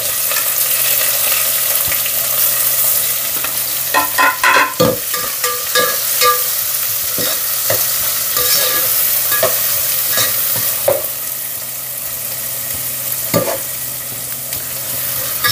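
Onion frying in hot oil with cumin, garlic, chilli and curry leaves for khichdi, a loud close sizzle with busy spatula scrapes and clacks against the pan, settling to a steadier hiss later.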